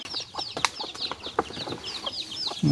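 Hens in a backyard coop cluck and chirp continuously, a busy overlapping chatter of short calls with occasional wing rustles, close by and steady.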